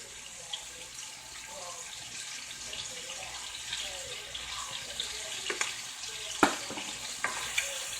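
Food dusted with Creole seasoning and parsley flakes sizzles softly in a pan while a utensil stirs it, with faint scrapes and a few sharper clinks over a steady frying hiss.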